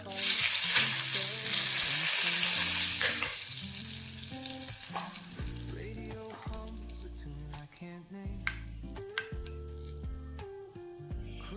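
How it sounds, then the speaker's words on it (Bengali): Cardamom, cloves, licorice root and bay leaf frying in hot oil for a village-style shukto, a steady close sizzle with scattered pops and crackles, louder at first and easing slightly, under a background of harmonic music. "এবার এতে এই যে দেখো এলাচ, লবঙ্গ আর মিষ্টি কাঠ দিয়ে দিব, সঙ্গে তেজপাতা"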